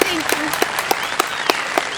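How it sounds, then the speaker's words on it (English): An audience applauds with dense, brisk clapping that holds steady throughout, with a voice faintly underneath. "please give a round of applause to Sherry Cook"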